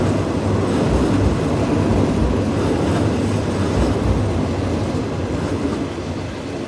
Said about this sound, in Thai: ขบวนด่วนที่86นะครับกำลังจะผ่านเครื่องกั้นทางด้านใต้ของสถานีบ้านโป่ง